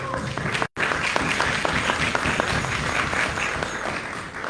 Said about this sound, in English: Please give a round of applause to the judges.